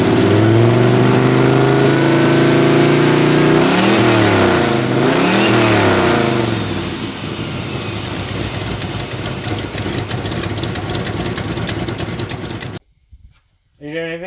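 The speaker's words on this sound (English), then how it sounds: "Ignore the giant exhaust leak from the header gasket that I said was gonna leak." A turbocharged AMC Jeep engine with a leaking header gasket revs repeatedly in sharp rising and falling sweeps, loud and close, then settles into a raspy run before cutting off abruptly.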